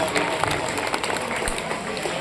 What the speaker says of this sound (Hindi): जोरदार तालियां अजवत भाई के लिए होनी चाहिए